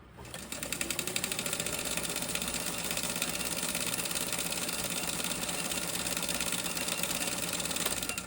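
A White model 1563 sewing machine runs continuously at a steady speed, its rapid, even needle clatter and motor hum close and constant for several seconds before it stops.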